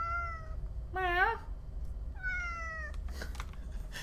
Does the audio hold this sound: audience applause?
no